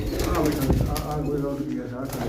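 Pigeons coo in a steady low murmur close by, heard continuously under someone talking loudly throughout.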